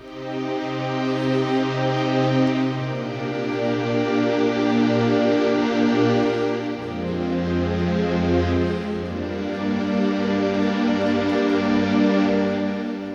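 Sustained synthesized string chords swell and shift with a long reverb tail, changing pitch partway through, with no voices.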